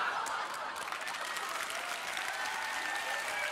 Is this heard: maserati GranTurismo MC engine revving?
no